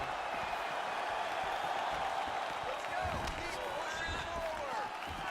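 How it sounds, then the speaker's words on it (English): A large UFC arena crowd murmurs and roars continuously in the distance, swelling at moments, with faint commentary voices underneath. "you hear the crowd react every time they come together"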